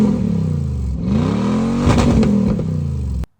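A Lexus GX470 SUV engine revving hard through its exhaust, pitch rising and falling in throaty sweeps, close and loud, then abruptly cutting off.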